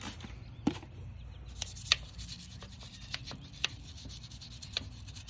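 A car wheel rim coated in brake dust is scrubbed with wheel cleaner, giving quiet, uneven rubbing and scratching strokes with a few sharper taps, faint and close.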